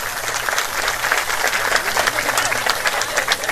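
A crowd at a political rally in Jaura claps loudly and continuously, a dense, crackling wash of hands with a low engine-like rumble beneath.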